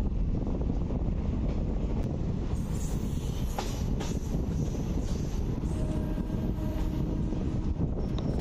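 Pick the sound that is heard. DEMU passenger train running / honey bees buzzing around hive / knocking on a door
DEMU passenger train running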